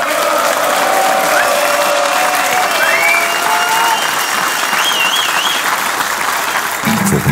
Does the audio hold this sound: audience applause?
yes